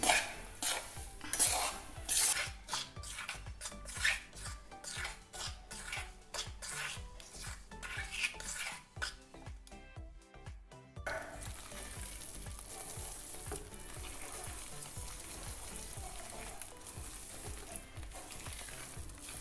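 A besan barfi mixture frying in ghee is stirred with a utensil scraping the pan in quick repeated strokes, then settles into a steady sizzle for the rest of the clip.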